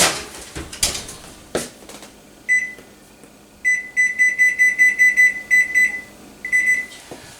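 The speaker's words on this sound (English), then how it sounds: "there's that timer" A kitchen oven timer alarm rings in bursts of sharp, high electronic beeps, loud and close, following a few clattering knocks of cookware, with no talking.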